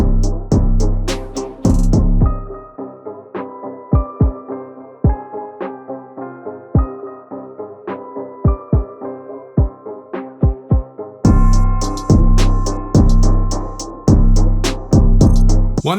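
A loud electronic track whose high end drains away, leaving muffled thumping beats, then the full bright mix bursts back in near the end.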